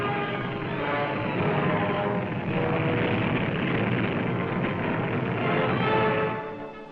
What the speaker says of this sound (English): The planes were still coming with no end in sight.